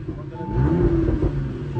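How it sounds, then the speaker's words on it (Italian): Microcar engine with a punctured exhaust revving up, a rough, buzzing mid-pitched rise that swells and holds near the mic, with voices talking over it. "È bucata la marmitta."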